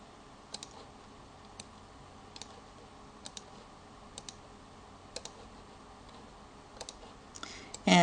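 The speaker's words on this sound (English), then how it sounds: "So I'm going to click a few students here." Computer mouse clicks ring out one or two at a time at irregular intervals over a quiet room background as student names are selected, ending in a brief louder burst of noise.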